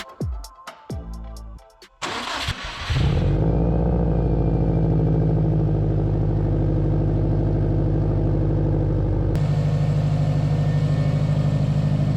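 A few sharp clicks and rattles, then a Subaru STI's JDM EJ20X engine starts and settles into a steady, loud idle close by, rising slightly in revs near the end.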